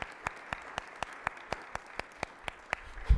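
Applause from an event audience, heard as a steady wash of regular claps at a moderate distance, lasting a few seconds with no talk over it.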